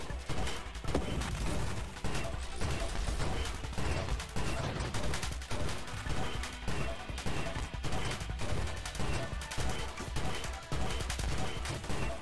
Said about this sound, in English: Long-range shotgun is pretty nice.